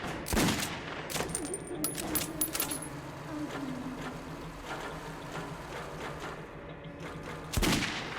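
Gunfire in the Metro 2033 video game as enemies are shot, heard as a series of sharp, fairly close shots at irregular intervals with metallic clinks and a louder shot near the end, with no talking.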